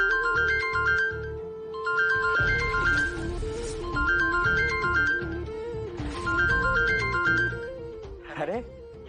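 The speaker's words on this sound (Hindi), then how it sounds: "ये फोन तो यहीं से बज रहा है" A mobile phone ringtone plays a repeating melodic tone pattern in regular bursts, with dramatic music and voices running underneath.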